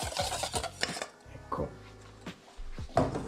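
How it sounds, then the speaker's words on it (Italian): A whisk scrapes and taps rhythmically against a bowl while beating egg yolks for carbonara, in quick, close, repeated strokes with brief pauses between them. "Dopo aver fatto questa operazione stempero con una frusta"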